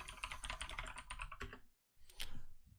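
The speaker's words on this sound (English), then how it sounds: "My mechanical keyboard." Close, rapid clicking of a mechanical keyboard in a busy burst of keystrokes, a brief silent pause, then another flurry of typing.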